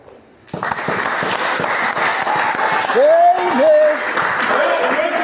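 A youth camp congregation at a marriage teaching session bursts into applause after a brief quiet start. The clapping is sustained and crowd-wide, and a high, wavering vocal cry rises over it midway.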